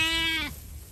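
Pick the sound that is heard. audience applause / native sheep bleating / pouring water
native sheep bleating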